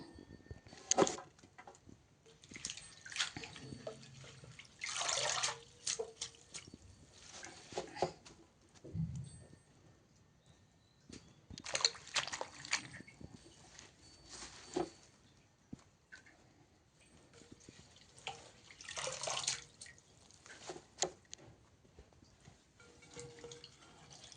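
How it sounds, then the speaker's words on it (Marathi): Splashy, uneven bursts of running water and wet rustling as mustard greens are swished and rinsed, with quieter drips between the louder washes. "भाजी बघा आता स्वच्छ आपण धुतो आहे"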